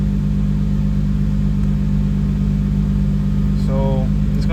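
Turbocharged Toyota IS200 idling during home tuning, a steady low engine hum with a faint constant whine, and a brief chirping tone near the end.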